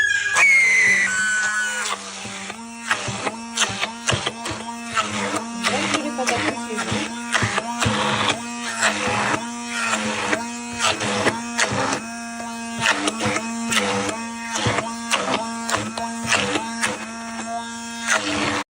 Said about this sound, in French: je suis encore avec mon mixeur Silvercrest au lieu d'utiliser ce Thermomix